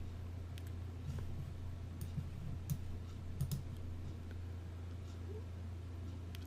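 Computer mouse clicks sound while someone works in design software, with a few light, sparse clicks scattered over a steady low electrical hum and no speech.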